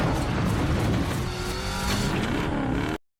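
Car driven hard in a John Wick action scene, a loud, close engine roar with faint tire squeal, steady for about three seconds before cutting to silence.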